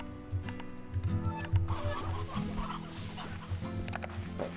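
Hens clucking in the video game Slime Rancher 2, a scatter of close, repeated clucks over a low humming background music bed, with no talking.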